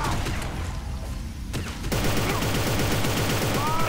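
Gunfire in the shooter game Inversion: a few scattered shots and a sharp crack, then sustained rapid automatic fire rattling continuously, loud and close.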